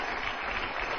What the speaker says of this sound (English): an applause break.